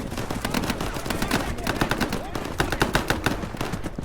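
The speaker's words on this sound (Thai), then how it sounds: "แลกกระสุนกันยับแบบยิงกันสนั่น ยิงกันหูแตก" Heavy gunfire in the shooter game Operation Harsh Doorstop, dense overlapping rifle and machine-gun bursts crackling nonstop at close range, with faint voices mixed underneath.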